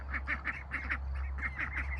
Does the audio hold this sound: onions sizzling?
no